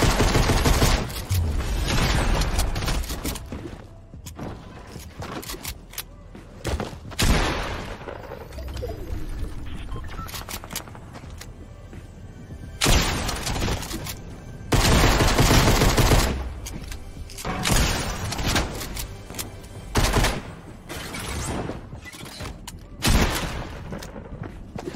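A burst-fire gun in a video game shooting in rapid, loud clusters of shots, close and repeated, with short pauses between bursts and some heavier blasts mixed in.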